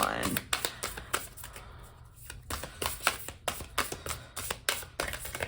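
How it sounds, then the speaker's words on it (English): A tarot deck is shuffled by hand at close range, giving quick rapid riffling bursts and taps that repeat steadily throughout, with a voice talking at times. "shuffling this deck with my little baby hands"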